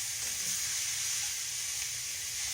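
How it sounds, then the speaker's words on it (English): Onions sauteing slowly in a skillet for beef stroganoff, giving a soft, steady sizzle and hiss that stays even and gentle throughout, with no voices. "We're going to let this saute real nice and slow in there and pull up all that good part on the bottom of the skillet."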